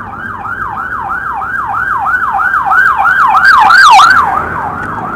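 A loud wailing ambulance siren sweeps up and down in rapid repeating cycles, growing nearer and louder before easing slightly, with traffic rumble underneath, heard from a Saab 900SE V6 convertible pulled over.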